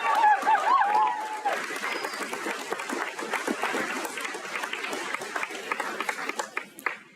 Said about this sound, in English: a round of applause for our faculty and staff who have guided us here on campus to this point